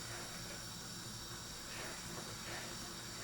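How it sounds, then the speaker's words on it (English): Toffee filling for a banoffee pie bubbles and hisses in a pan on the stove, a faint steady simmering hiss with soft popping throughout. "I'm going to let this boil. Just keep stirring it until it gets really, really thick."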